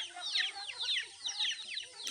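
Chickens and roosters clucking in a backyard pen while being fed pellets mixed with cassava leaves, with several overlapping clucks and squawks close by in quick succession.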